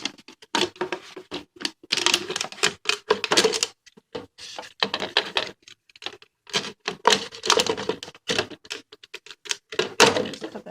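Scissors or a blade cut through an old plastic oil bottle to remove its bottom for a funnel, giving a run of close, irregular crunching snips and thunks with short pauses, no voices.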